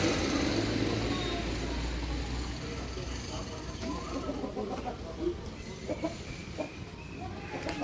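Many chickens cluck faintly in the background, scattered soft calls over a low ambient rumble, while a person talks nearby.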